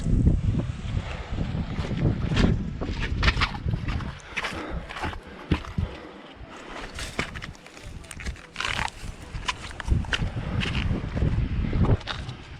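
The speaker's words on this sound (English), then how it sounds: "More windy over there." Gusty wind at Mission Beach buffets the microphone in uneven bursts, rising and falling in loud rumbling waves for the whole stretch.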